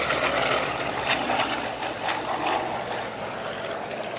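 A WW2 P-47 fighter's piston engine roars loud and steady at an airshow, a broad continuous drone with no pauses.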